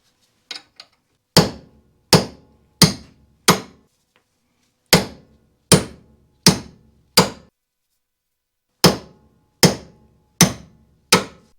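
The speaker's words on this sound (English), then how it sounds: "Once that's in a nice position, we can simply tap the stud out." Groups of crisp, close hammer taps knocking a front wheel stud out of the hub on a Mazda MX5 Miata turbo build, struck in bursts of four or five with quiet pauses between, preceded by a few faint clicks.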